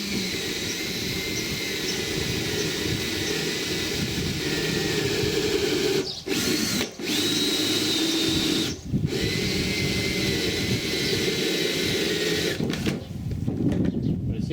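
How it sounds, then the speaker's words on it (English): A power drill runs continuously while boring a hole from up on a ladder for a water pumping fitting, a steady whining motor with a few brief pauses, close and loud, with no talking. "I'm just going to drill a hole"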